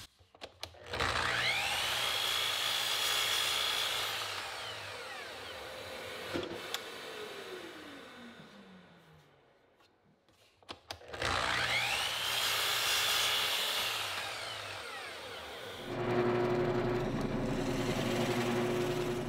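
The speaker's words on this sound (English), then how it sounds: "set the saw at a 45 degree angle, and I'll cut a small chamfer at each end" A power saw set at a 45 degree angle cuts small chamfers on the ends of wooden drawer stops, two loud whining runs each spinning up and then winding down, separated by a quiet gap, close by.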